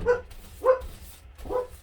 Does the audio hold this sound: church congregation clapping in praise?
no